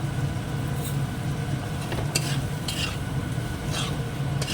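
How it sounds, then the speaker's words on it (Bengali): Tomato and capsicum with a little sugar sizzle steadily in a pan, a dense close frying hiss with a few brighter spatula scrapes and clinks near the middle and end, no voices. "দিয়ে আবার একটু কষিয়ে নেবো"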